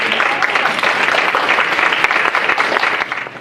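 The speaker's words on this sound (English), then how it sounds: "and give her a round of applause." Audience applause at a women's political lunch, a steady, dense patter of many hands clapping together at close range, holding strong for a few seconds before easing slightly.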